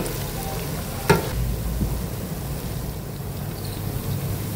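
Sliced onions fry in ghee for a potato chicken curry, giving a continuous loud sizzle with a sharp spoon knock early on and steady stirring scrapes throughout.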